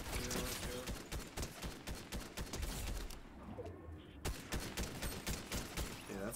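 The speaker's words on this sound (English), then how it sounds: "I'm being shot at" Video game gunfire crackles in rapid, close bursts of sharp shots, with a brief lull before firing resumes in repeated volleys; a voice speaks faintly underneath.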